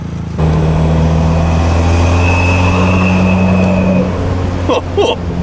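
A turbocharged Mazda Miata with a 400 whp turbo kit pulls hard, its engine roaring loudly with a high whistling turbo tone rising over it, then easing off with a brief hiss near the end.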